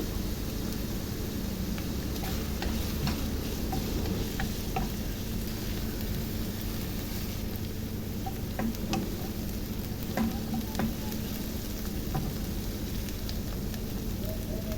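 Finely chopped green chillies and sliced onions sauté in a pan with a quiet, even sizzle and a few faint scattered clicks of stirring, low in level throughout.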